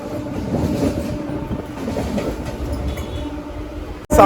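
A MEMU passenger train pulling out of Samalkot Junction rumbles along the rails with a steady clickety-clack heard from inside the coach, then ends in a sudden loud burst.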